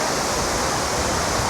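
A waterfall in Jamaica roars as dense, continuous rushing water, loud and close, with no voices.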